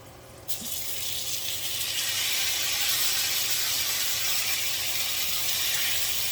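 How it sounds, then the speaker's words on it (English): A sudden hiss starts and builds into a steady, loud sizzle that continues for several seconds as steak sears in a hot pan. "That's what you want to hear. You want to hear that sizzle."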